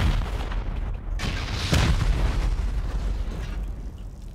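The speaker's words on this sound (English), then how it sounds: "And then just rocket the heck out of this." Rocket explosions blasting a player base during a raid in the survival game Rust, heavy booming blasts with rumbling decay, one powerful burst in the middle, over continuous low rumble.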